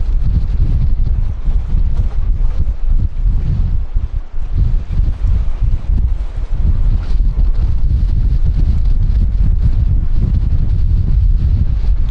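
Strong wind blasts across the microphone at a fishing jetty, a loud, constant low roar and buffeting rumble that continues without a break and with no talking.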